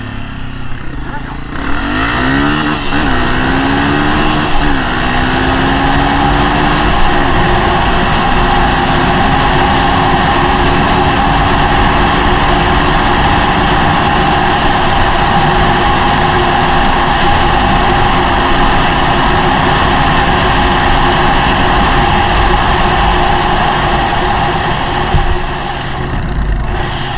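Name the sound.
Honda CRF250F dirt bike engine accelerating to top speed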